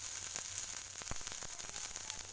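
Onions sauté in a pan with a steady, soft sizzling hiss that stays even throughout, with a few faint clicks over it.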